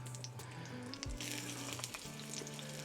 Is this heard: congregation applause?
no